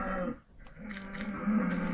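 A cow lows in a video game, a short moo and a longer drawn-out one at moderate volume, with no talking over it.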